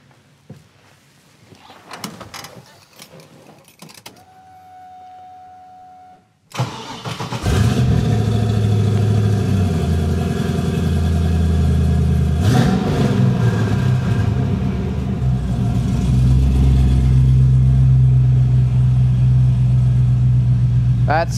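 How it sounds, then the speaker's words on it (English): A 1973 Camaro Z28 restomod with a crate LS3 V8 cranks over and fires up, settling into a loud, rumbling idle. Its deep exhaust note swells with revs and holds steady for about fifteen seconds after a brief quiet lead-in. "let me start it up so you can hear the delicious exhaust note coming from that crate LS3"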